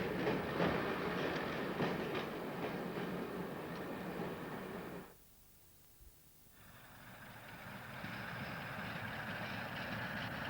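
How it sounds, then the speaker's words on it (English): A two-car passenger train runs across the junction crossover on the Sheffield to New Mills line, rolling steadily and loud. Its sound drops away sharply for a moment, then returns as it rumbles on. "The two-car set crosses over and heads for New Mills Central Station."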